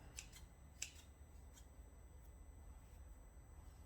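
Fabric scissors snipping through hair during an amateur home haircut, heard as a few faint, scattered crisp snips over a quiet room hiss, with no talking.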